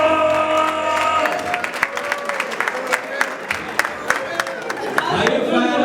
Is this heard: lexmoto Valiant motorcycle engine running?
no